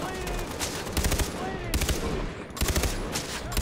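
Gunfire bursts in the Far Cry 3 video game, dense overlapping shots repeating in several loud clusters over a steady noisy background.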